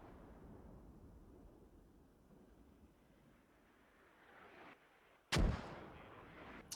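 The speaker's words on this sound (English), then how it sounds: "Frag grenade." A frag grenade explodes in the military shooter Squad: one sharp, loud, nearby blast after several seconds of quiet wind, followed by a fainter pop.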